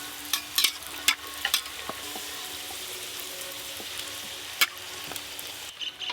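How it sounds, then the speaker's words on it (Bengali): Luchi, puffed wheat flatbreads, deep-frying five at a time in a crowded pan of hot oil: a close, steady sizzle broken by sharp crackles and pops, with no voices. "5 পিস করে লুচি একসাথে ভাজা হচ্ছে।"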